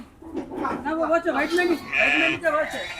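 Sheep bleat in wavering, nasal cries amid a busy crowd at the weekly livestock market in Medak, with people talking over them nearby.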